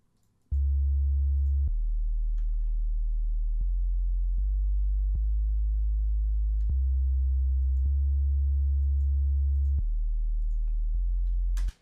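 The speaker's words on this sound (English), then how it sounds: "It's just serum and a simple sine wave" A plain sub-bass sine wave from the Serum synth steps through a sequence of sustained root notes, each held a second or so, loud and clean with no other sounds.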